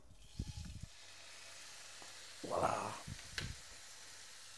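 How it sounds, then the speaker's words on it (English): Steak that had rested half an hour hits a hot pan of butter, giving a short, fairly loud sizzle burst in the middle, with brief speech before and after. "Yeah, frying in butter, man."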